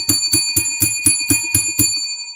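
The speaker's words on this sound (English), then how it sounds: "Let's ring the bell for Kyle Pitts getting a touchdown yesterday." A bell rung in celebration of a football touchdown, eight bright metallic strikes in steady rhythm, each with a ringing tail, close and loud, then fading out alone.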